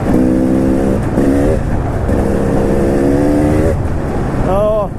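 A 2019 KTM 300 EXC TPI two-stroke dirt bike engine drones loudly up close on a muddy trail, rising and falling in pitch as the throttle is worked, with a sharp rev near the end.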